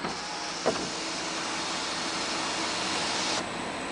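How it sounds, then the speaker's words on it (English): A power one-touch moonroof on a 2007 Cadillac Escalade ESV opens with a steady electric motor whir that runs for about three seconds, then stops abruptly near the end, heard close inside the cabin with a faint click at the start. "let's go ahead and operate the moonroof."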